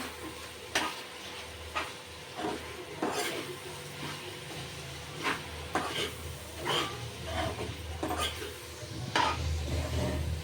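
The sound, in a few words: stirring coriander powder into chicken masala curry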